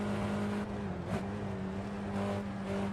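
A road car engine drones steadily at high revs on the Nordschleife, its tone dipping briefly as it shifts into fifth gear, then pulling on with a constant, loud hum.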